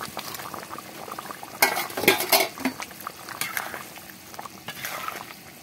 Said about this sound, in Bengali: এই যে দেখুন ঝোলটা ফুটে গেছে, এবার দিয়ে দেবো মাছের ডিমগুলো